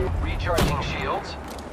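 Gunfire in an Apex Legends match crackles in a short, sharp burst close by, mixed with game effects and an announcer-style voice line in the background.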